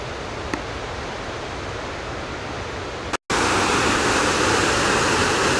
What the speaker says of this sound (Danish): man har simpelthen bygget en kanal langs med vejen her, hvor man fører vandet ned til hytterne